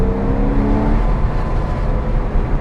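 A car accelerates hard out of a corner on a driving circuit, the engine note loud and close throughout, a steady broadband roar with a brief rising tone early on.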